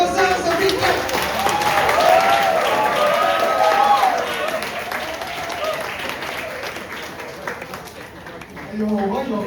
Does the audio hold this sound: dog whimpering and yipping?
no